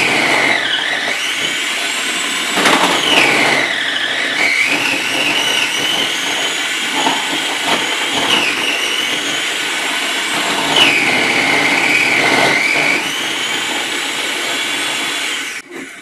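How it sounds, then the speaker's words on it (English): Electric grater shredding a block of cheese in a home kitchen, a loud continuous motor whine that dips and rises in pitch as the cheese is pressed in, running alone until it cuts off at the end. "So we'll grate our cheese."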